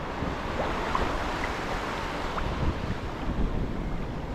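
Heavy surf crashes and churns continuously on a shoreline in the Philippines, loud and close, with gusty wind buffeting the microphone throughout.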